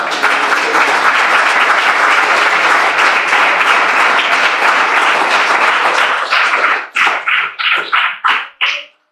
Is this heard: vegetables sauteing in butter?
no